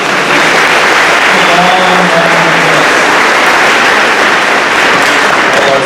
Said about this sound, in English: And I think a special round of applause for Mrs. Blackburn